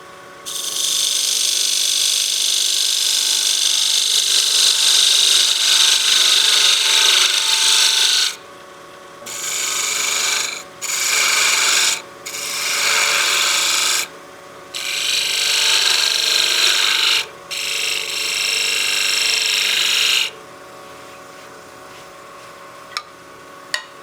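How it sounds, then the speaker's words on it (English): A spindle gouge cuts decorative detail into the brim of a wooden witch head spinning on a lathe, giving a bright scraping hiss in several bursts separated by short pauses, close and steady. "So I'm just cutting some detail into the brim here."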